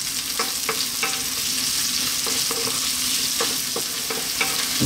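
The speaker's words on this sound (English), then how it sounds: "Next up, we're going to add in our onion. And we're on quite a high heat." Onion frying over high heat for a cauliflower curry, producing a constant close sizzle with intermittent scraping stirs of a utensil against the pan, and no talking.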